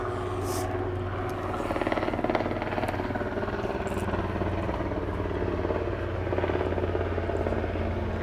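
A helicopter flies overhead during an outdoor interview in Kansas, giving a steady low rotor drone that stays fairly loud and even throughout, with light clatter and no clear talk.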